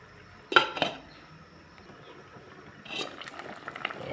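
A metal lid clanks onto a cooking pot of fish tinola with alugbati, two quick near clinks followed by quiet bubbling and a second cluster of clattering knocks, faint overall.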